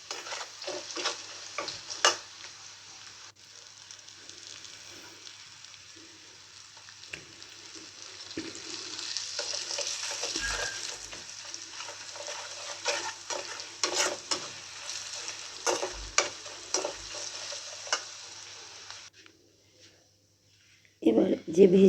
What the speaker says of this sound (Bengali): এটাকে দিয়ে আমি ভালোভাবে নেড়ে নেব।